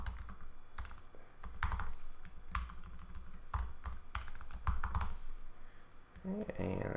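Rapid clicking keystrokes on a computer keyboard while typing code, irregular bursts of taps up close and steady for several seconds, with a brief different rustle at the end.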